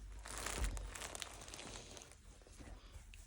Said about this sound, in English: Sorry about the plastic crinkling.